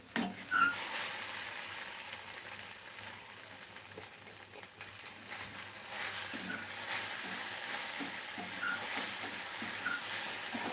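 Okra cooking in a pan and being stirred now and then, giving a steady low sizzle with faint scraping stir sounds throughout, fairly quiet and close.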